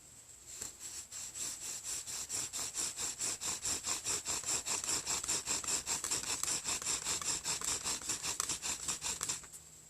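A wooden bow drill spindle is sawed back and forth in a fire board, a steady rhythmic rasping of about three strokes a second, close and fairly quiet, with no talking.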